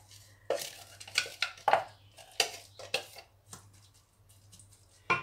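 Coarsely ground onion tipped into hot oil in a pan, heard as a series of sharp clattering utensil knocks and scrapes with brief sizzling in between, close and fairly quiet.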